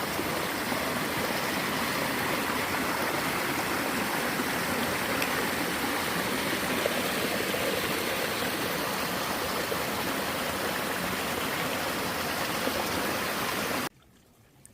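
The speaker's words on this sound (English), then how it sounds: "This is creek number 4." Another trailside creek near Bottleneck Lake rushes in a steady, loud broadband wash that stays even throughout and cuts off abruptly just before the end.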